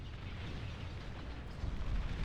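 Torpedo blasts in Beyond All Reason, a continuous rolling rumble of overlapping explosions with heavy low boom that intensifies toward the end, no voices over it.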